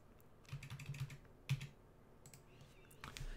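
Someone types a password on a computer keyboard into camera-viewing software, producing quick, irregular clusters of light keystrokes with a few sharper clacks and short pauses, close and without speech.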